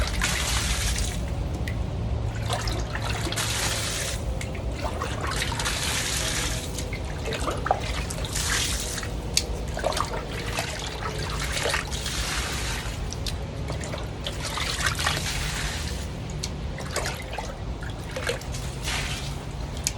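Water splashes and pours in bursts as repeated scoops are emptied out of a container pond in a greenhouse, with dripping and trickling between them, close up and without speech.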